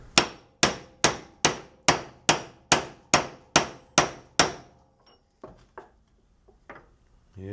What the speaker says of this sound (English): It's moving slowly. I'm using a couple pound sledge.